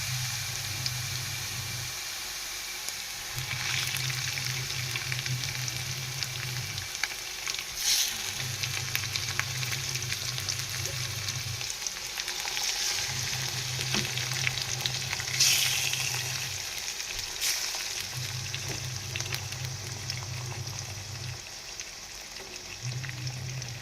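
Fish roe sizzling and frying in a hot pan, a steady close crackling hiss that runs the whole time, with a low hum pulsing on and off underneath and no voices.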